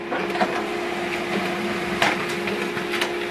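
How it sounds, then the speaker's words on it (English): An HP LaserJet Pro M148dw laser printer runs a two-sided print job, giving a steady mechanical hum with a few sharp clicks and clacks from paper handling, heard close and alone. "So right now it will print this document two-sided."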